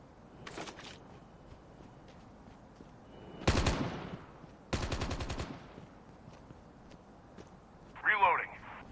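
Sniper and automatic gunfire in a video game: a short burst early on, then two loud sustained volleys of shots a second apart, followed by a brief metallic clatter near the end.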